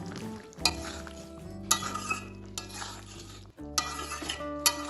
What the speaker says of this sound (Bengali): এবার দিলাম কিছুটা ধনেপাতা কুচি। ভালোভাবে এবার এটা মিশিয়ে নেব।